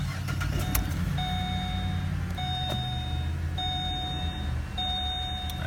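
A Pontiac G8's engine idles with a steady low rumble, surging, droning throughout, with repeated electronic beeps chiming at regular intervals over it.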